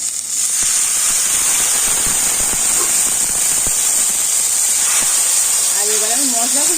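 Spice paste of ground coriander, ground cumin and ginger paste sizzles loudly in a pan as a little water is added for vegetarian ghugni, a steady close hiss with scattered crackles throughout.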